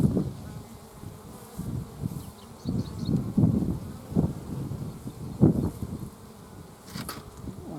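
Honeybees buzz close to a beehive, their drone swelling and fading in repeated passes as they fly near the microphone, against faint outdoor background noise and no speech.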